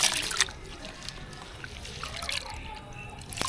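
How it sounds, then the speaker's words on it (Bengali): Lentils are rubbed and washed by hand in water that is changed a few times, giving close sloshing, trickling and dripping throughout, with a few louder splashes. "2-3 বার পানি পাল্টে কচলে কচলে ধুয়ে নিতে হবে"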